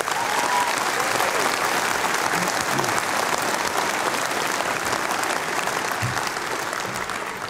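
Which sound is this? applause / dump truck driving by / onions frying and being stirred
applause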